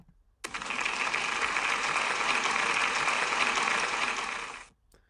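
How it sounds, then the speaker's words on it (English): A dense, steady burst of clapping from a crowd, starting abruptly and fading out after about four seconds. "give Alfie a big round of applause"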